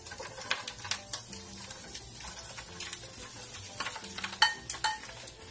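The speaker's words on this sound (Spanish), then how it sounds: "voy a agregar el chicharrón para empezarlo a dorar" Chicharrón prensado frying in a few drops of hot oil, a faint, quiet sizzle with scattered light clicks and scrapes of a utensil against the pan.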